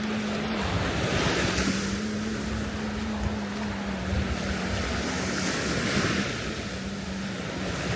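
Steady surf rolls onto a beach on Phu Quoc Island, Vietnam, a continuous wash of breaking waves mixed with wind noise, loud and close with no voices.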